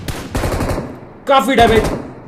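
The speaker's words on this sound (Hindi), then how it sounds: "रुक जाओ, गोली चलती है मेरे पे।" Rapid automatic gunfire in the BGMI battle-royale video game rattles in bursts, with someone talking over and between the shots.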